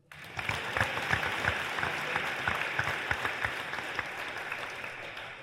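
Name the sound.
audience applause at signing day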